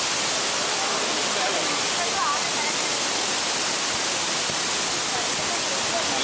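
Thusharagiri waterfall sends up a steady, loud roar of rushing water, a dense unbroken wash of noise that stays constant from start to finish.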